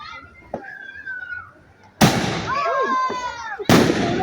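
Fourth of July fireworks burst with sharp loud bangs, one around the midpoint and another near the end, followed by crackling, while people exclaim and talk over them.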